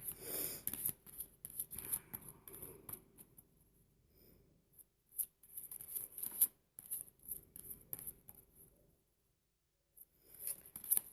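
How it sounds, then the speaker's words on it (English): Tarot cards are shuffled by hand in soft, irregular bursts of papery riffling and rubbing, close and quiet, with brief pauses between runs. "just as I'm shuffling here"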